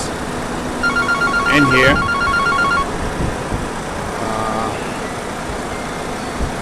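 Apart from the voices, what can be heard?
telephone ringing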